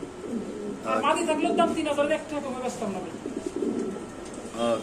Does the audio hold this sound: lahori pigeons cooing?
yes